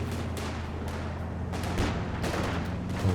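Small arms gunfire crackles through a Company of Heroes 2 battle, a dense steady rattle of rifle and machine-gun shots with a low rumble beneath, continuous and fairly loud throughout.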